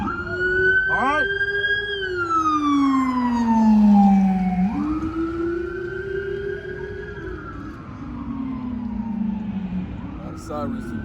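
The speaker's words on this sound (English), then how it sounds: "A lot of sirens today." Emergency sirens pass by outside, loud and close, rising and falling through several wailing sweeps with a second siren chirping near the end, heard over a background of a room where people talk.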